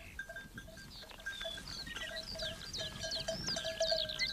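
Sheep bleating in a valley pasture, several calls overlapping near and far over steady outdoor background, no voices.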